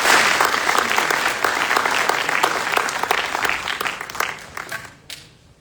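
A crowd at a military graduation ceremony applauds the drill sergeant leader of the cycle, loud sustained clapping that gradually thins and fades out near the end.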